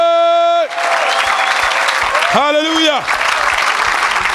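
Church congregation applauding and cheering for a children's team of eleven; a dense burst of clapping and crowd noise follows a sung or called-out voice, with another voice rising briefly over the steady applause.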